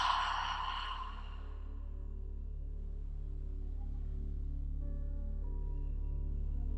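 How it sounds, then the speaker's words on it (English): A long, audible exhale out through the mouth during yoga breathing practice, a soft breathy rush at the start that fades into quiet room tone with a steady low hum. "Take a big inhale through the nose. Exhale out the mouth."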